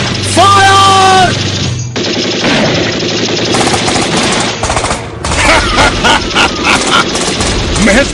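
Dramatized battle gunfire for a war scene about Major Somnath Sharma, with rapid machine-gun bursts and scattered shots continuing loudly throughout, after an opening stretch of musical tones and a brief pause.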